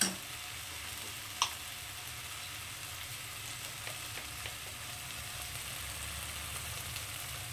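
A spiced mixture sautéing in a pan, with a soft steady sizzle and faint stirring clicks, quiet and close, with no talking.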